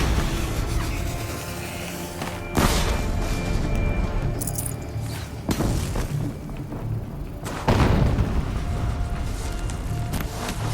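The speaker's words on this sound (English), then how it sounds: "An explosion." Explosions in Horizon Zero Dawn Remastered hit as several heavy, close booms, three sharp onsets a few seconds apart, each followed by crashing debris and a lingering rumble, with no speech.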